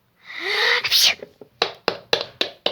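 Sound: sneeze

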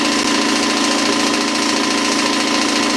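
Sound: Campbell Hausfeld air compressor running during break-in

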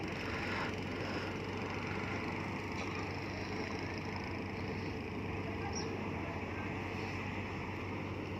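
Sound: fishing boat engine on the Pattani River

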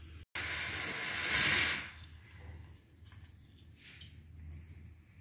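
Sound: hot oil tempering added to tamarind huli saaru, sizzling

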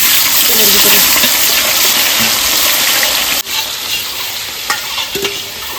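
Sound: onions frying in hot oil

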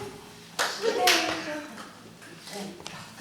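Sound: children clapping hands

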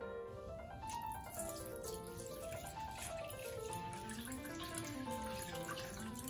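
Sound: pouring 8% salt water over fish

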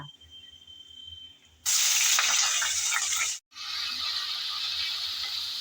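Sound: onion paste frying with cinnamon, cardamom, cloves

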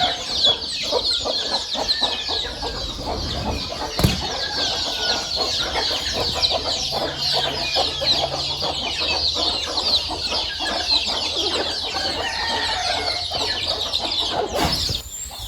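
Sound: chickens clucking

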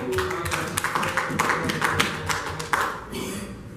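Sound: congregation applause

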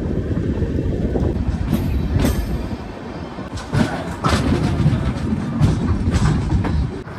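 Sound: passenger train running on rails

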